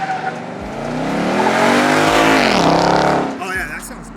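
A Mustang GT with Borla mufflers and stock resonator headers roars as the revs climb, hold loud for a couple of seconds and drop off, heard close with a rough, skidding edge.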